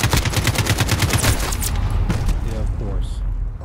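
Rapid automatic gunfire from a sentry gun in the shooter game Call of Duty: Modern Warfare, a loud, dense burst of shots in steady rhythm filling the first half, then tapering into rumbling booms.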